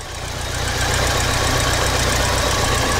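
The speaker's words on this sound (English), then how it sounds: "and there's your engine. Let's listen to it run." A 1989 Alfa Romeo Graduate Spider four-cylinder engine idles with the hood open, a loud, steady, even rumble that swells slightly at the start and then holds constant, with no talking.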